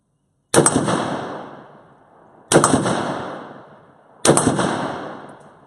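A Molot VEPR AK-pattern rifle chambered in .308 fires three sharp, loud shots spaced about two seconds apart, each cracking sharply and then trailing off into a long echoing decay outdoors, with no voices.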